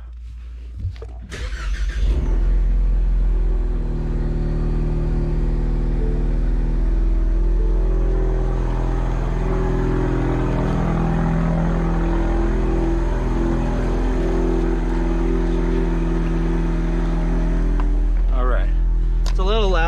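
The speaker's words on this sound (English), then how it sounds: "I am gonna go ahead and start the car now because I need to start the car for the defrosters," A 2020 Ford Mustang cranks briefly and catches, then settles into a deep, steady idle that rumbles on close by for the rest of the stretch.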